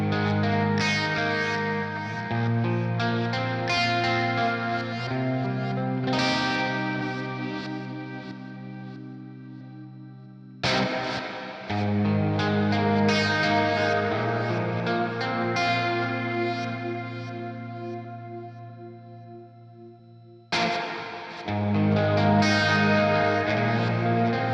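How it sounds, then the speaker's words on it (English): Electric guitar played through a Fender Mustang Micro Plus headphone amp with a large modulated reverb, sustained strummed chords swelling and decaying into shimmering tails, with three distinct phrases separated by brief breaks. "I want a modulated, large modulated reverb."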